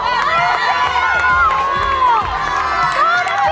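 Spectators at a youth cross-country race cheer and shout continuously, a loud, dense crowd roar with high voices calling out close by throughout.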